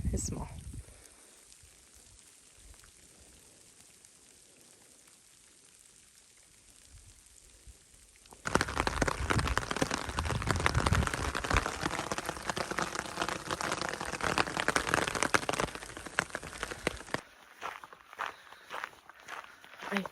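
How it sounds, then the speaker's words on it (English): Steady hard patter of rain and small hail hitting a surface nearby on a New Mexico hiking trail, a loud dense hiss that starts abruptly and then drops away. "It's hailing."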